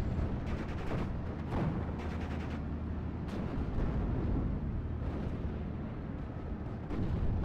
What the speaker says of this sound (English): Looks like the Brumbar is firing upon the M7.